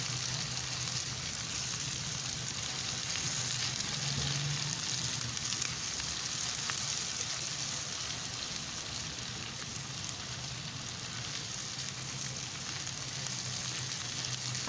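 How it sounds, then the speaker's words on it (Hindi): Onions sizzle with ginger and garlic in a hot pan for a Pakistani-style chicken with mash dal, a steady, even frying hiss running unbroken throughout with no talk. "प्याज को इतना ही हम फ्राई करेंगे क्योंकि अदरक लहसुन जो है उसमें भी फ्राई होना है"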